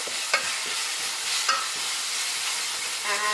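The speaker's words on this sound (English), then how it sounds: "you can add half teaspoon of turmeric, and then just mix it well" Paneer bhurji frying in a pan as coriander seed powder and turmeric are stirred in, a soft continuous sizzle broken by a few spoon scrapes and taps, with no voices.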